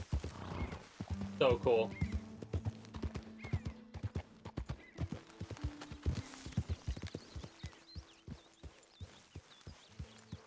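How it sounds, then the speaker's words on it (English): Horse hooves clip-clop in a regular walking rhythm in Red Dead Redemption 2, crisp close strikes with a neigh near the start, a brief spoken remark, and sustained low game music tones underneath. "That's a big fucking horse."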